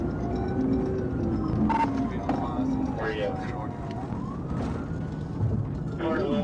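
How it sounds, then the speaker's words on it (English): A police car siren wails faintly in the distance during a high-speed chase of street racers, its rising and falling tone partly buried under people talking and a steady engine rumble. "I activated my emergency lights and siren"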